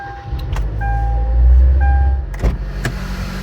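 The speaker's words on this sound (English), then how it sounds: "It's got some noise coming from the engine, and I'm pretty sure it's coming from an engine mount." Worn engine mount on a 2012 Hyundai Accent produces a steady, heavy low-end engine rumble, with a couple of sharp knocks near the end and no talking.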